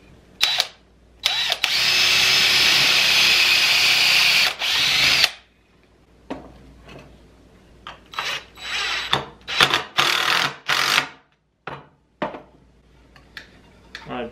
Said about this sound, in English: We'll drill it and screw it and see how that holds up.